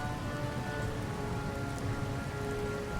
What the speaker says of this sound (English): Better not do it while it's raining.